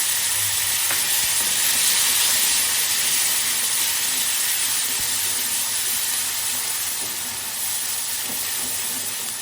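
Turmeric goes into hot oil in a wok while cooking prawns, giving a loud, continuous broadband hiss of sizzling that stays close and steady, slowly easing off, with no talking.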